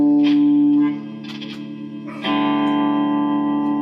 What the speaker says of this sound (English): Tremolo's working.